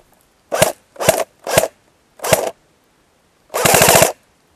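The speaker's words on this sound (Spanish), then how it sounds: "Tiro detrás, Abad. Por allí." Gunfire from behind in a close firefight, heard as four loud separate shots at uneven intervals followed by a short rapid burst, all near and sharp with silence in between.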